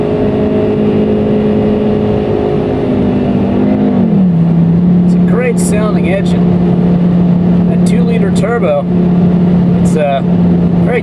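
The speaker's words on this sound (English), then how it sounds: "Just listen to this thing rev." A 2012 Volkswagen Jetta GLI engine drones at a steady pitch that dips once, then holds constant and loud while someone talks over it in the second half.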